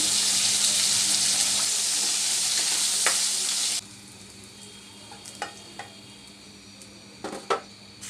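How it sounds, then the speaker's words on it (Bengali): Four or five whole dried red chilies fry in hot oil with a loud, dense sizzle that cuts off abruptly partway through, leaving a quieter background with a few scattered clicks and taps. "চার পাঁচটা গোটা শুকনো মরিচ বেজে নিচ্ছি"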